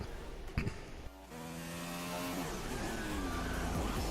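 A race car in an F1 video game circles the Brazilian Grand Prix track, engine whine rising and shifting in pitch as it accelerates through gears, steady and fairly quiet with a brief thump early on.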